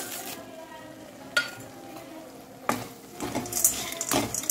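Roasted, ground sandge being stirred into a masala frying in a pan for a spicy Maharashtrian sandge curry, with a soft background sizzle and scattered scrapes and clinks of the spoon that grow busier toward the end.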